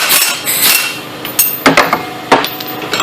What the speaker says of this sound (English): I just blew the bottom of the ball joint out.